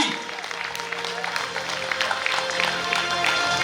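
A seminar audience claps loudly in a hall, with steady sustained applause that lasts throughout and low crowd murmur underneath.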